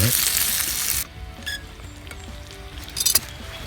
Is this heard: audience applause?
no